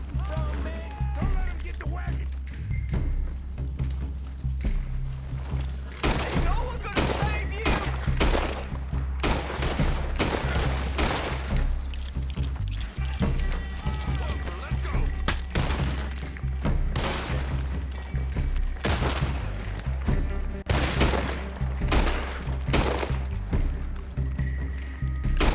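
Scattered gunshots ring out in the Red Dead Redemption 2 video game, several sharp cracks spread across the stretch with a low steady rumble beneath, while someone talks over much of it.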